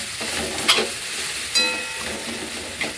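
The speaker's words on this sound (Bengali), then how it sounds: "এরপরে আমি আস্তে আস্তে এটা নেড়ে নেব।" Paneer stirred slowly in a pan over a low-medium flame gives a steady soft sizzle with a few brief scraping strokes, close and moderately loud, with no voices.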